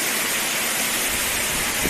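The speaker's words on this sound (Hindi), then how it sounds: "ऊपर देखिए जब झरना नीचे की तरफ मूवमेंट कर रहा है तो कैसा अपना नेचुरल आवाज़ दे रहा है।" A waterfall cascading down a mountainside in Himachal Pradesh produces a steady, dense broadband rush of falling water, loud and continuous throughout with no voices.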